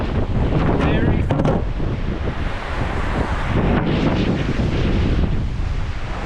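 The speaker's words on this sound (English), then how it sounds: "There is a small amount of wind" Steady wind buffeting an outdoor microphone on a sunny day in the Colorado Rocky Mountains, a constant loud broadband rush with gusty swells and no break throughout.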